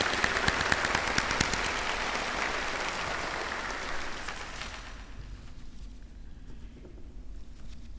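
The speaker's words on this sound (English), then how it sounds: "Let's give them a round of applause." A crowd applauds retiring college staff at an awards ceremony, the dense clapping strongest at first and then settling into a softer, steady patter that carries on to the end.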